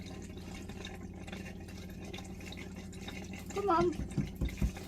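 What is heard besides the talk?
caravan water tap running, purging air from the system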